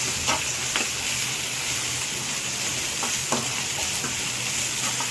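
Ginger garlic paste fries in a pan for taro curry, a loud, constant close sizzle with a few brief spatula scrapes cutting through.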